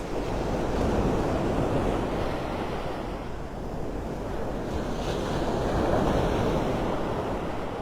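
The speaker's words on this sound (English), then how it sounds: "The sound of the waves." Ocean surf rolls steadily onto a beach as the tide comes in, a broad, constant wash with gentle swells. Wind buffets the microphone throughout, and no one speaks.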